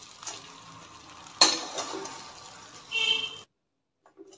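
Potato snack being stirred and tossed in a frying pan, with a steady soft sizzle, a sharp scrape or clatter partway through, and a louder burst of stirring near the end before it stops.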